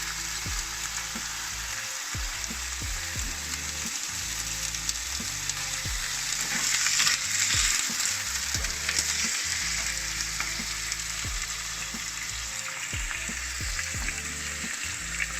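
Ingredients fry in olive oil in a pot with a loud, steady sizzle that lasts throughout, while repeated low thumps and scrapes from stirring come at irregular intervals.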